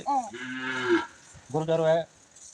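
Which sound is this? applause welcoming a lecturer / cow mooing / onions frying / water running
cow mooing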